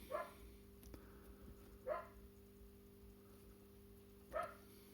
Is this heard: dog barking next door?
yes